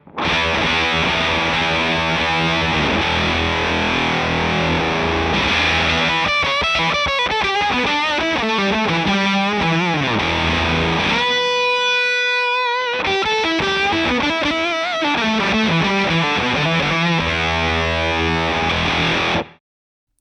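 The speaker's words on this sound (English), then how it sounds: "it's almost got like a ring mod sort of sound about it" Electric guitar chords through a Fjord Fuzz Odin pedal, heavily fuzzed, harsh and buzzing with a ring-modulator-like metallic edge, played loudly and continuously before cutting off at the end.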